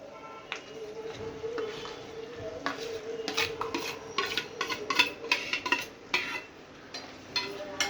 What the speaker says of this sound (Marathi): आता आपण या फोडणीमध्ये ॲड करणार आहोत काजू, कांदा आणि हिरवी मिरची आणि लाल मिरचीची पेस्ट केलेली.